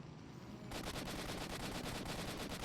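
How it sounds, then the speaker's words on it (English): Sustained bursts of gunfire in the STALKER Shadow of Chernobyl Enhanced Edition game, starting abruptly after a quiet moment and continuing as a steady, loud rattle of rapid shots. "Might want to get going. I hear gunshots."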